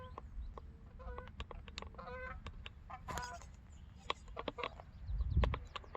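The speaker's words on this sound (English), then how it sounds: "Some geese." Geese honk in repeated short calls outdoors, fairly distant and mixed with scattered clucking bird sounds over a low steady background rumble.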